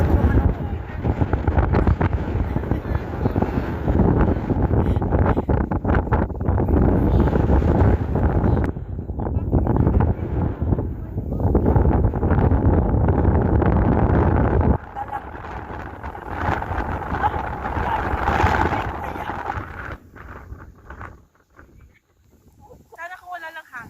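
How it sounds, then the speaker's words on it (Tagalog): Strong wind buffeting the microphone on a hilltop hike in Hong Kong, a loud continuous roar and rumble that gusts and eases, with people talking and laughing over it throughout. "ang lakas ng hangin"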